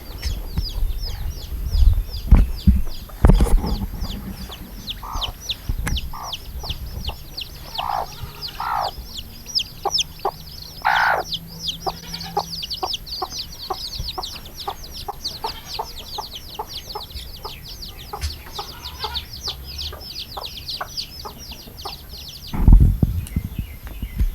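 Hens cluck and chatter in a steady stream of short calls, with a few louder bursts and thumps near the start and end.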